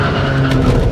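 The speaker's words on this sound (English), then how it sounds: "Should we turn off traction control real quick and just see if we can spin the tires?" A 2004 Mazda RX8 with six-speed manual and traction control switched off, spinning its tires: one loud, close second of engine roar with a strained tonal squeal and rough tire noise, no voices.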